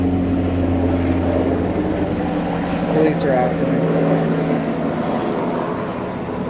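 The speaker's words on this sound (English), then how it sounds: "Flying a helicopter over the house." Helicopter flying over a house, a steady low droning rotor hum that fills the background throughout, moderately loud and constant, with someone speaking over it.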